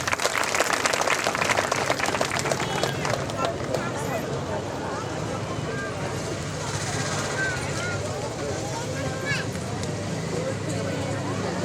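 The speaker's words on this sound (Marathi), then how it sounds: "टाळ्या वाजवा" Dense applause from an audience at a Savitribai Phule birth anniversary programme in Purna, loud and sustained throughout, swelling slightly at the start and then holding steady with crowd noise mixed in.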